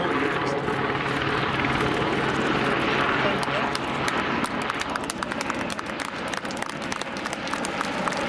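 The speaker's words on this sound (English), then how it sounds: "Lieutenants Johnny Linus and the Seaking then coming in to land at our helicopter landing site." A Royal Navy Sea King helicopter flies past at an East Fortune air display, its rotor chop steady and fairly close beneath a busy outdoor crowd wash, with a voice talking over it.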